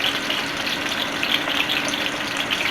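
Breaded chicken katsu sizzles steadily in a frying pan, a constant hissing, crackling fry held close and fairly loud, with no talking over it.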